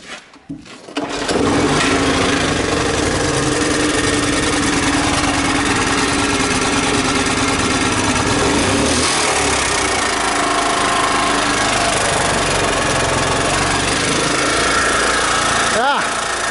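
Generator engine in a project setup with an old Peugeot, droning loud and steady close by for the whole stretch after a brief start, with no pauses.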